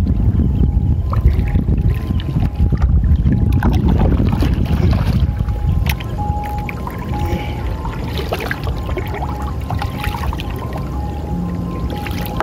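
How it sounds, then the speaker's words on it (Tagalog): Strong wind blasts across the microphone on a small fishing boat at sea, a loud continuous roar that eases a little partway through, with water sloshing beneath and no talking. "Malakas ang hangin eh. Kaya napapadpad ang ating bangka."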